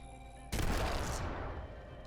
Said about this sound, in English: Let's try grenades. I have an arc star.